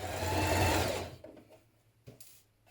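A sewing machine stitches a shirt band seam in one brief, close whirring run of about a second, then stops, leaving light handling clicks.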